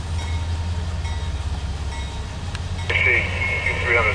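A CSX Q300 mixed freight train rolls past with a steady low rumble and rail clatter, the sound brightening and growing slightly louder near the end; speech is faintly audible in the background.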